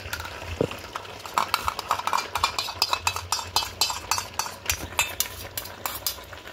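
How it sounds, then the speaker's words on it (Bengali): Beaten yogurt is stirred into pepper chicken in a hot pan: quick repeated scraping and clinking strokes of a spatula over a low sizzle, close up and steady, without speech. "দই দিয়ে খুব ভালো করে মিশিয়ে নেব"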